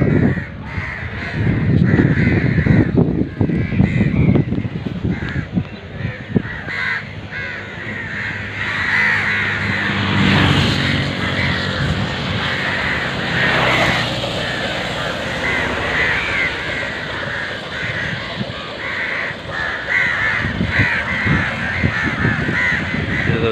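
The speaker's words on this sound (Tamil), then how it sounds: "எல்லாமே காகம் தான்" Many crows caw loudly and repeatedly over a steady outdoor rumble on Kayts Island, Sri Lanka, a dense flock calling throughout with no pause.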